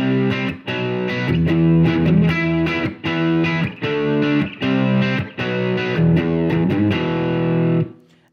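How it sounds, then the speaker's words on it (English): Electric guitar played through a crunchy rhythm distortion, loud chords strummed in short repeated bursts with brief gaps between them. "It's just a regular old kind of rhythm sounding distortion."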